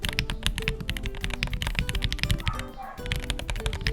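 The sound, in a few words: typing on MW75 mechanical keyboard with Gateron Milky Pro Yellow switches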